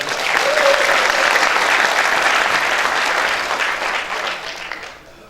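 Enthusiastic applause from a Korean Democratic Party youth rally audience welcoming a lawmaker to the stage, dense loud clapping that holds for several seconds, then fades out.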